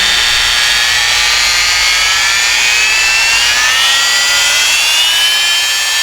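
A loud, steady high-pitched whine of a Dremel Multi-Max MM30 3.3 amp oscillating multi-tool running at a higher speed setting, its pitch drifting slightly upward, close and unbroken throughout.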